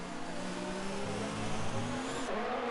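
Ferrari and Renault Formula 3 race cars in a racing video game at Abu Dhabi, engines droning steadily with layered whining tones that shift in pitch as the cars hold speed, loud and continuous throughout.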